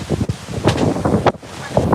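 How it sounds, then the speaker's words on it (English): Wind buffeting an outdoor microphone in steady, rough gusts that rise and fall, loud and close, with no voices present. "it's wind."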